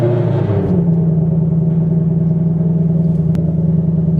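A car engine idles steadily and close by as the car is backed out to test-fit new wheels. There is a low, even rumble with a slight shift in tone early on and no talking.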